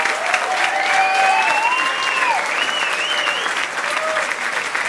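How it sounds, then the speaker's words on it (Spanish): An audience applauds warmly for a performer at a Spanish-language show, steady dense clapping throughout with a few excited shouts and whistles rising above it. "aplauso para Mateo."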